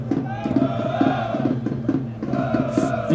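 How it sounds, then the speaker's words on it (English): A rugby match crowd at a BUCS Super Rugby game between Cardiff Met and Exeter roars and cheers loudly, a steady swell of many voices with rhythmic shouting throughout. "The crowd's going crazy."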